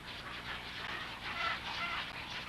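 Dense din from a Pantanal nesting colony of wood storks with egrets, herons and spoonbills, a steady mass of overlapping squawks and calls filling the air continuously, no single bird standing out.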